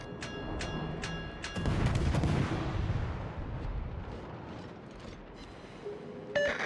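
Naval guns firing in a warship battle video game, heavy booming salvos rumbling with long decaying echoes, loud and alone without voices.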